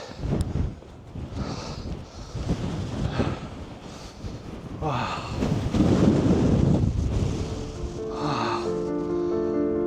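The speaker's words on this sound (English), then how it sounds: "another gust of wind" Wind gusting against a microphone on the steep stairs of Glastonbury Tor, a rough low rumble that swells and buffets in waves across the clip, loud and continuous with no clear voices.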